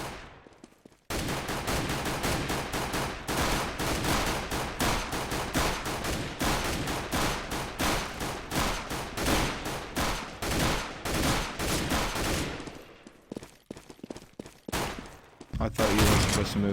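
Dense, sustained automatic gunfire and overlapping bursts from players shooting in an online video game, loud and nearly continuous for about twelve seconds, then thinning into scattered shots before a final loud burst.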